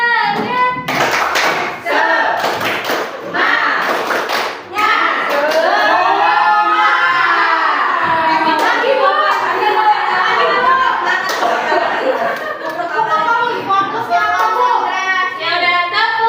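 Teachers at a school gathering perform a rhythmic group clap chant, loud, close and crowded, sharp clap bursts mixed with many voices chanting and talking over it throughout.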